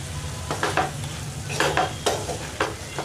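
Cauliflower poriyal is stirred in a pan over a steady frying sizzle, with a few close scraping strokes of a spoon coming in bursts.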